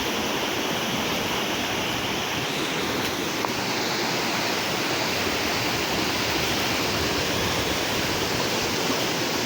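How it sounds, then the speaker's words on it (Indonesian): Water rushes loudly and constantly through the Curug Lawe sluice gate on a hiking trail near Ungaran, a dense unbroken roar with no voices. "pintu air Curug Lawe."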